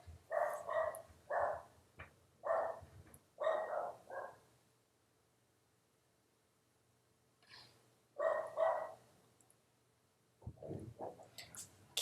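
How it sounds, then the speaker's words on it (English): Several dogs bark excitedly at someone arriving, loud bursts of rapid barking in clusters separated by pauses, with a final short flurry near the end. "Dogs never shut up. Once they see that somebody's here,"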